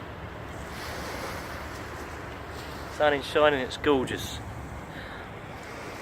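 A river flows outdoors on a sunny day as a constant broad rush mixed with wind buffeting the microphone, while someone talks briefly over it.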